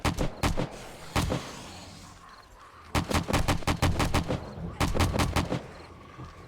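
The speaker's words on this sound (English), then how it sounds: "Just firing random rounds into these guys at this point." Zombies in 7 Days to Die, War of the Walkers mod, get hit by loud, close gunfire in three separate bursts of rapid shots, with short pauses between the volleys.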